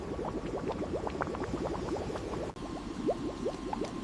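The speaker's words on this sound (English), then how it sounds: "Boiled in massive batches, thousands of liters at once." Papaya jelly boiling in a massive factory batch of thousands of liters: a steady bubbling, popping churn of thick liquid, continuous and close, with no voices.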